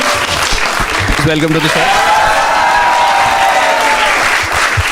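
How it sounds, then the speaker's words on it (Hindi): Audience clapping for three show contestants, a dense sustained applause wash filling the whole stretch, with a voice speaking over it near the start. "Start clapping for the 3 contestants for today."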